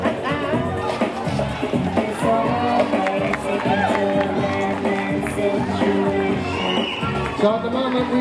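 A roller derby crowd cheers and whoops through a bout, a steady loud wash of voices and hubbub with an announcer talking over it.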